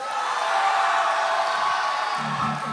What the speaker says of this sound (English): that's the loudest cheer I've heard for voting